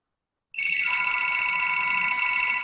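A telephone starts ringing abruptly after half a second of silence, a loud steady electronic trill that holds continuously to the end, with no talk.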